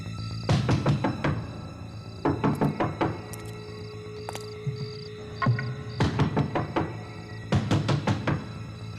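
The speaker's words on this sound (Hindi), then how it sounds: "तुम यहाँ खड़े रहकर लगातार दरवाजा नॉक करते रहो" Repeated knocking on a door in a horror drama scene, coming in several loud bursts of rapid thuds with short pauses between them, close by and with no voices over it.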